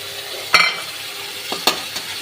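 Ground pointed gourd seed paste hitting a hot pan of oil, giving a sharp sizzle that fades, followed by a spoon scraping and stirring with a few clinks and another burst of frying.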